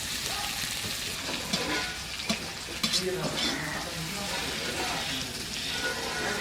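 Prawn chow mein ingredients frying and being stirred in a pan, a soft continuous sizzle with scattered scraping clicks of the utensil against the pan, moderately quiet and without speech.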